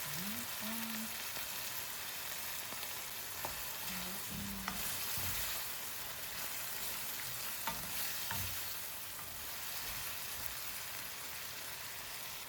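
Dried fish fries in hot oil in a pan and is stirred. It gives a continuous close sizzle with scraping stirs and a brief hum of voice now and then.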